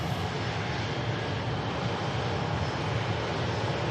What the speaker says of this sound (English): Aer Lingus rotates from 2-3 left.